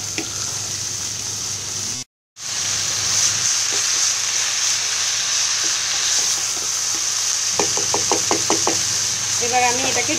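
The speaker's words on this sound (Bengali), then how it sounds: "জাস্ট এটাকে আমি মশলার সাথে ভালোভাবে মিশিয়ে নিচ্ছি।" Spiny gourd (kakrol) is stirred with spices in a frying pan, giving a loud, steady sizzle broken by a brief pause, followed by quick rhythmic scraping and knocking of the spatula against the pan.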